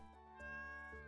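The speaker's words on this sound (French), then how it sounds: "le bruit que fait le chat est horrible" A stray cat in the video game Stardew Valley meows in a short, tonal electronic-sounding call, quiet and repeated briefly over a steady synthetic background hum.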